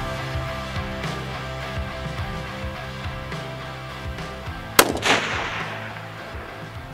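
One sharp, loud rifle crack fired at a 1,790-yard target, with a brief rumbling tail, breaks a steady low background hum and is followed by quiet.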